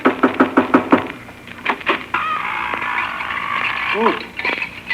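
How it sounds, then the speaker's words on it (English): A series of knocks rapped on a door in a 1941 Christmas radio comedy about a witch's house, five or six quick sharp raps followed by a sustained tone and a voice. "I better knock on the door"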